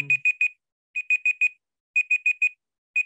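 A smart home assistant's timer alarm rings out in groups of four sharp electronic beeps, each group separated by a short silence, clear and close with nothing else audible.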